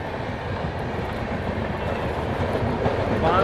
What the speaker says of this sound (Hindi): ये है स्वराज एक्सप्रेस का जलवा